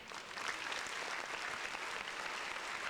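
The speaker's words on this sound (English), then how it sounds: "Round of applause." Round of applause from a small audience, steady faint clapping filling the whole stretch without a clear start or end.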